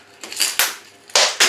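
Pebbles scooped for topping a slipper orchid pot, three or four crunchy, gritty scrapes in quick succession, close and fairly loud, with no talking.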